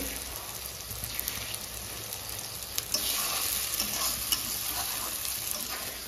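Eggs stirred and frying in a hot pan for leftover-rice fried rice, giving a steady close sizzle with scraping spatula strokes throughout and a slightly louder burst of stirring partway through.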